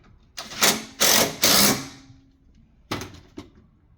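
A wrench tightens the bolt on a Megan Racing strut tower brace in a 2007 BMW E85 Z4, making three quick ratcheting bursts, a pause, then two shorter clicks close by.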